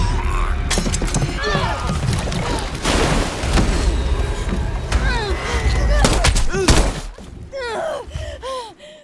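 Bursts of gunfire and booming blasts crackle through a busy mix, with grunts and gasps scattered between shots and a sudden break near the end.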